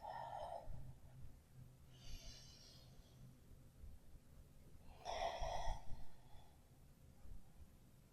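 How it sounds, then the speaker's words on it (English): Slow breaths during a yoga flow, with two soft airy exhalations through the mouth standing out a few seconds apart against a quiet room. "exhale through the mouth"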